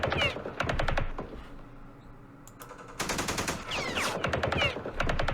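Rapid automatic gunfire in the Campaign Series Vietnam war game during the Battle of Hue, loud rattling bursts of machine-gun shots separated by a short quieter gap.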